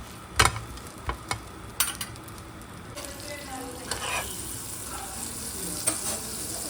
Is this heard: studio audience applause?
no